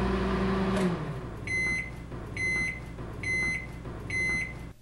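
A microwave oven heating frozen burritos: a low hum runs under several short electronic beep bursts repeating at an even pace, each beep sounding alone and close.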